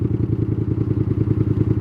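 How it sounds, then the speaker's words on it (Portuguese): MIG250 motorcycle engine idling at slightly high revs, a steady close, loud pulsing chug with a fast even firing beat and faint mechanical clatter, no voices. "A moto tá um pouquinho acelerada"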